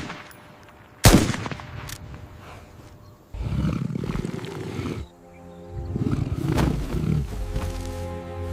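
Injured pregnant lioness roaring close by in long, loud, rough bursts, opening with a sharp bang and separated by brief lulls.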